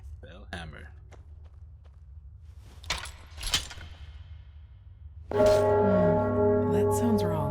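Bells in the fantasy role-playing game Enderal ring out loud and sustained after a few scattered footsteps and taps, their rich harmonic tones overlapping as they are struck with a bell hammer.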